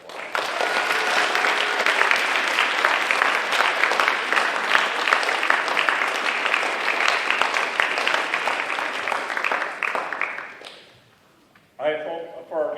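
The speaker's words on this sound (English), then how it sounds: "Let's give everyone just a big round of applause." Big round of applause from the audience at a Waldorf University Honors Day ceremony, a dense, steady wash of many hands clapping for about ten seconds before fading out, followed briefly by a voice.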